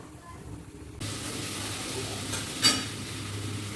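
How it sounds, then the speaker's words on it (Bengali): Whole cumin seeds drop into a generous amount of hot oil in a home kitchen pan and set off a sudden, loud, steady sizzle, with a brief clatter of the utensil partway through. "অনেকখানি তেল আছে একটু গোটা জিরে দিয়ে দিলাম"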